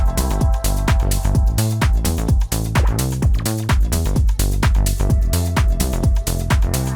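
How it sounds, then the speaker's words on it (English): A plucky house bass synth patch built in Serum repeats a punchy, short-decay pattern with a driving rhythm, loud and alone with no voices. "plucky house bass in Serum. It's gonna sound like this."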